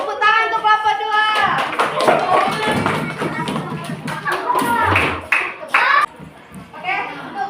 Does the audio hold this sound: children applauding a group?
yes